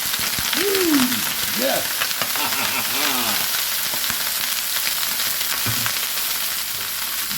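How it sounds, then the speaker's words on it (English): Broccoli dropped into hot oil sizzles loudly and steadily in a pan, a broad crackling hiss that persists throughout, with a brief spoken word over it. "Broccoli into the hot oil."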